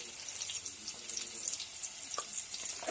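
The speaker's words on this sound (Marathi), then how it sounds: "आपली मिरची भाजली की त्यात मी थोडी हळद घालून घेते" Turmeric and roasted green chillies frying in oil in a pan give a soft, steady sizzle close by, faint and hissy, with a few small crackles and no talk.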